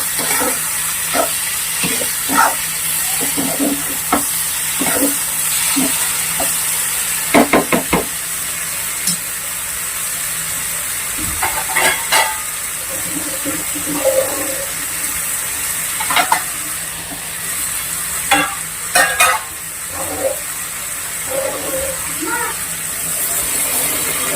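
Vegetables sizzle steadily in a pan while a spoon stirs them, giving repeated scraping knocks against the metal over a constant frying hiss, close and fairly loud throughout.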